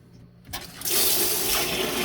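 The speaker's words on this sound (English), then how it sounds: "You can try to back flush these filters. Just make sure the hose is in the bucket." Water gushing hard as a filter is back-flushed through a hose into a bucket, a sudden loud rushing burst that starts after a short quiet moment and holds steady, with no talk.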